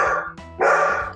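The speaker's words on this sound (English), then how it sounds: "the dog is barking" A dog gives a couple of short, sharp barks close by, with a brief gap between them and nothing else heard.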